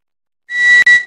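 A multimeter's continuity buzzer on a DIY amplifier board gives a short, loud, shrill beep with a brief gap, preceded by silence.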